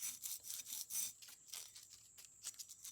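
A fine file scraping burrs off a gear from an Amberola A-1 phonograph spring barrel, quick close rasping strokes in a rapid back-and-forth rhythm, faint and bright.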